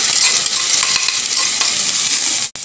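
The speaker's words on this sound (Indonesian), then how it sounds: "Lalu kita tumis dulu ya" Macaroni snack being sautéed in a pan, a steady bright sizzle with scraping stir sounds running throughout, close and fairly loud, cutting off abruptly near the end.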